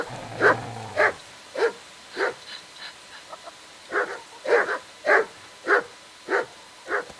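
A dog in the medieval role-playing game Kingdom Come: Deliverance barks in a steady series of about a dozen loud, evenly spaced woofs, alone with no talk, plus a few softer yips midway.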